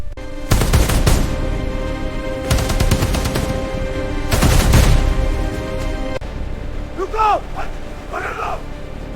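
Three loud, rapid bursts of gunfire crack out close by from a woman firing at a threat in a staged army drama scene. A brief voice follows after the shooting stops.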